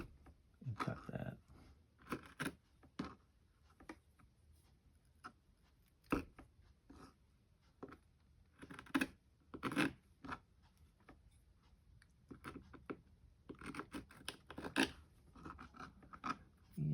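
Scissors snip through fuzzy craft material for a gnome figure: faint, close, irregular crisp cuts and rustles in short clusters with quiet gaps, and no talk.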